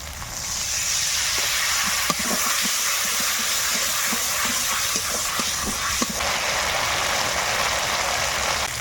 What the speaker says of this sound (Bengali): এবার একটু জল দিয়ে মশলা কষিয়ে নেবো ভালো করে